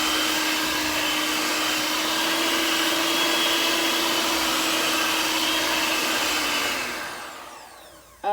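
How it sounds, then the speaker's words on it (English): Countertop blender running steadily on sweet potatoes for a pie filling, a loud continuous motor whir that holds for about seven seconds, then winds down and stops, with a brief clunk at the very end. "So go ahead and blend."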